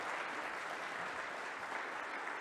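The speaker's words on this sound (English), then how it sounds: "everybody give them a work of applause." Audience applause fills a hall at a GDC game developers' conference talk, steady dense clapping held at an even level throughout, with no voices over it.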